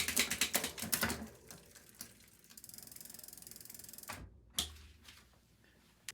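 Gear shifts on a Bridgestone MB2 bicycle: a run of sharp ratcheting clicks and chain rattles up close, then a steadier whirring freewheel buzz, a brief gap, and a few more clicks.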